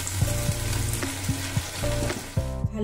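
Tomato frying in a pan for an egg curry, a steady close sizzle with a few soft stirring scrapes and a low, faint humming tone underneath.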